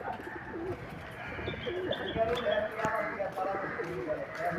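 Pigeons coo in low, throaty bursts amid a busy crowd at a weekly poultry and pigeon market in Sirajdikhan, Bangladesh, with people talking nearby and occasional clicks and knocks.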